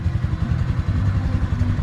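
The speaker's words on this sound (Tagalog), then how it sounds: "Ala, ayaw patayin yung motor niya." A motorcycle engine left running because it won't switch off putters in a steady, loud, close idle with a rhythmic chugging pulse, heard alone without talk.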